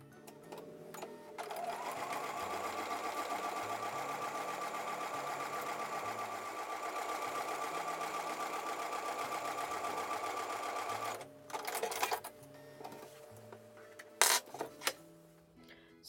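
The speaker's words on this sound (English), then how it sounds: "I'm going to take that over to the sewing machine and sew the last seam." A sewing machine runs steadily for about ten seconds sewing a quilt block seam, with a fast mechanical whir, then stops, leaving a few clicks and handling noises.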